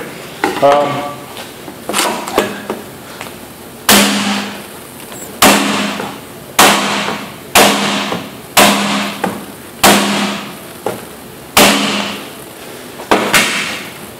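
An upholstery stapler fires staples into leather repeatedly, sharp loud snaps spaced about a second or two apart, with faint handling noise between shots.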